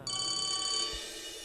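A telephone rings on a call to Dylan, a bright electronic trill held steadily and fairly faint, breaking off near the end without any talking.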